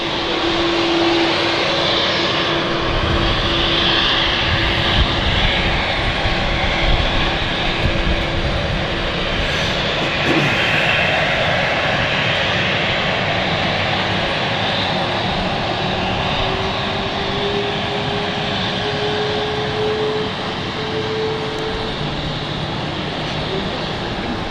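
A jet departing London City Airport on a Saturday makes a steady, fairly loud engine roar with a whining tone that dips and then climbs in pitch as it moves off. A person talks over it at times.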